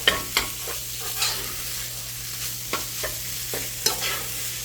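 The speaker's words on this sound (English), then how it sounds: "I already cooked my meat with taco seasoning. So I'm just gonna mix it up." Cooked ground meat already seasoned with taco seasoning gets stirred in a pan, giving soft scraping spoon strokes and a few sharp utensil taps against a low steady kitchen hum, with no talking.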